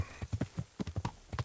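Hooves of a horse cantering in the video game Kingdom Come: Deliverance, a quick repeated clip-clop of hoofbeats in uneven groups of three and four, close and prominent with no voices.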